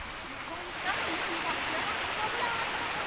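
A river at Abaksa in Bauan, Batangas rushes as a steady broadband wash of flowing water that swells slightly louder after the first second, with no speech audible.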